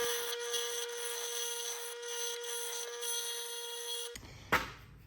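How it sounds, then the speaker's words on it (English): Bench grinder with a steady high whine grinding the threads off a 3/8 bolt, a continuous rough rasping contact sound, close and moderately loud, ending in a brief clatter as it stops. "we'll just put this thing on the grinder and take those threads off right there"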